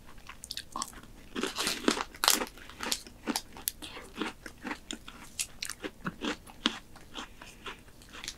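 A langue de chat cookie is bitten and chewed close to the ear, producing a series of crisp, crackly crunches that come in irregular bursts with no talking.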